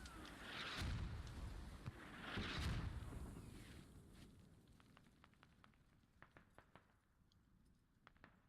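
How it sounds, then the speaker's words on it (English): Mortar shells landing in a military shooter game: two heavy, booming blasts a couple of seconds apart, each with a long rumbling tail, followed by scattered faint cracks of distant gunfire. "Mortars coming in."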